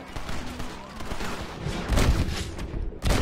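Gunfire rings out in Red Dead Redemption, a burst of sharp shots and booms, with one heavy hit near the end under a busy game mix.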